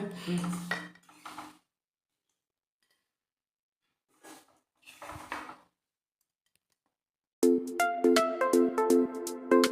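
Oil mango pickle being moved into a vessel: short bursts of clinking and scraping separated by silences, then a quick run of bright metallic taps and rattles of a spoon against the pot.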